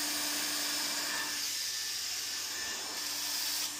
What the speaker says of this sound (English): I'm just tacking the joints here, tack it all the way along, basically just to keep it in place while it's being welded.